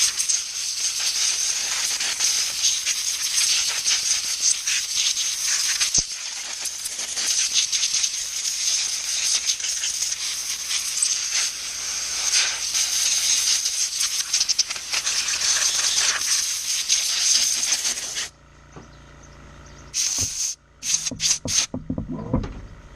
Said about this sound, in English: You're going to hear the air compressor running in the background.